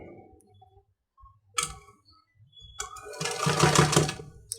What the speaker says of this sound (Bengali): বডির কাপড়ের উপর সেলাইটা করছি